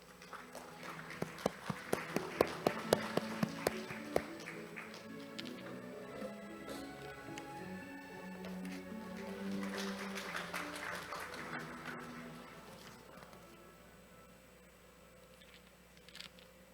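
Audience clapping at an academic society's award ceremony as a professor is called to the stage, sharp claps building early then settling into steady mid-level applause with music-like tones beneath, fading toward the end.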